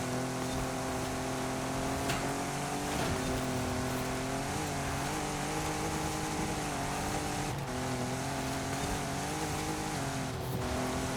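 A 2017 Ford F-150 Raptor racing in Forza Horizon 5, its engine droning loud and continuous with rising and falling revs through gear changes.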